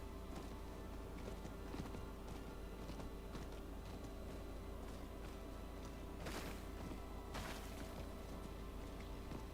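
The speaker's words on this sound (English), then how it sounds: "I'm just breaking everything on my way with my horse." A horse gallops and tramples through objects in the video game Diablo IV, making a steady stream of hoof clip-clops with a few sharper crashing impacts over a constant low background hum.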